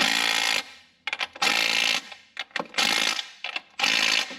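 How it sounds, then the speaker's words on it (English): A small cordless impact gun tightens Ford motor mount bolts in a garage, firing four loud rattling bursts of hammering, each about half a second long, separated by brief pauses and clanks. "I'm using my minigun. This doesn't have a lot of power like my big impact does"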